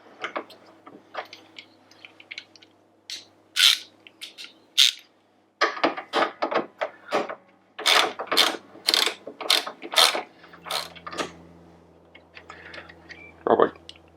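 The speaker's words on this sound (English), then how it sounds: "Move this 12mm bolt." A ratchet wrench works a 12mm bolt free during an intercooler upgrade on a Mitsubishi Challenger, with clusters of quick metallic clicking in short bursts separated by pauses, close and fairly crisp.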